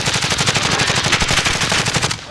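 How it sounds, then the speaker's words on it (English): Rapid automatic gunfire in the video game Call of Duty Warzone, a loud sustained burst of closely spaced shots over about two seconds that stops abruptly. "I'm taking fire."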